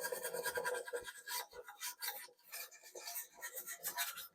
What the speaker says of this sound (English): just scrubbing back the oxide or the oxidation